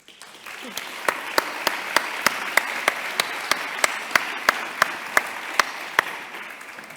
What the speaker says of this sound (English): just give another round of applause to all the speakers